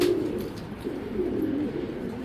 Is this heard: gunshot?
no